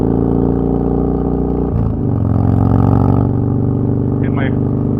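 Harley Dyna motorcycle engine roaring and revving hard during a wheelie, loud and close with a rising surge midway, with a rider's voice heard over it.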